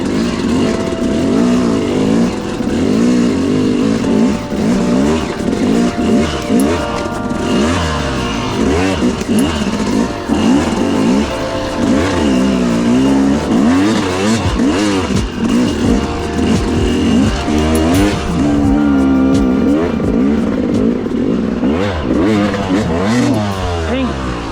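Yamaha YZ dirt bike ridden along rocky single-track trail in Utah, its engine droning loud and close throughout with constant rising and falling revs as the rider works over rough terrain.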